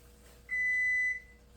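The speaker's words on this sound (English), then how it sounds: "There's the timer for our noodles." A kitchen timer for cooking noodles gives one steady electronic beep lasting about half a second. It is clear but moderate in level and sounds over a quiet room.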